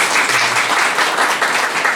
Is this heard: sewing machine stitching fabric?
no